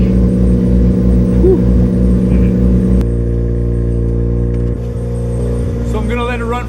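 A car engine idles steadily right after starting and warms up, a close, even rumble with a faint rhythmic tick, briefly joined near the end by a voice.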